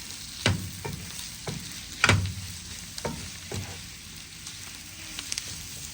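Sugar being stirred into onion sambal sizzling in a pan: several distinct spoon scrapes and clatters against the pan at irregular intervals over a soft continuous frying hiss, close up, no talking.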